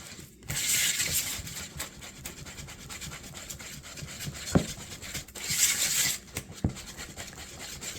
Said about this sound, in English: Whisk it up real good before you put in the pecans.